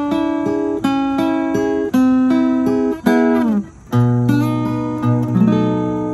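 A blues turnaround in E picked and strummed on an acoustic guitar, with clear sustained notes and chords in a steady phrase, alone and close, ending on a ringing chord.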